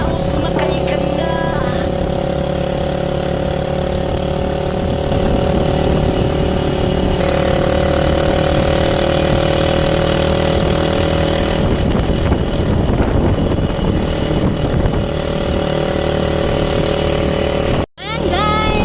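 Motorcycle trike engine running loud and steady during a charity ride in Catanauan, Quezon, a constant close drone with slight shifts in pitch and a brief dropout near the end.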